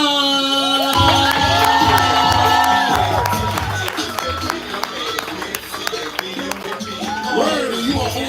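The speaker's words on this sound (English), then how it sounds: "make sure you clap for them all the way to the stage" A crowd at a love-and-heartbreak open mic poetry night cheers, whoops and claps loudly for a poet heading to the stage, with a dense, steady wash of applause and voices and some music underneath.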